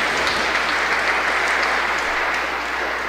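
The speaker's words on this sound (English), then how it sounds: "Give God a round of applause for His generosity." Sustained applause from a church congregation during Sunday Mass, a dense, steady wash of clapping that fills the room evenly for the whole stretch without a break.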